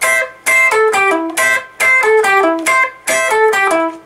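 Electric guitar plays a solo in clean, bright plucked phrases, several short bursts of descending notes separated by brief gaps, loud and alone.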